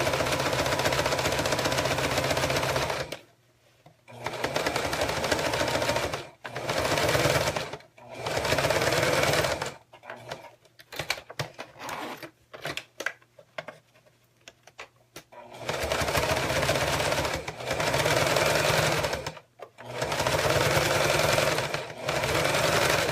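A sewing machine stitches a zipper into fabric in several bursts of rapid mechanical whirring. Brief pauses separate the runs, and a longer gap in the middle holds quieter handling noises.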